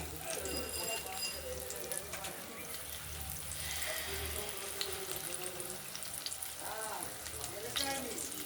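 Sesbania (bok) flowers, coated in gram-flour batter, fry in hot oil in a kadai, giving a steady, close, dense sizzle that holds evenly throughout.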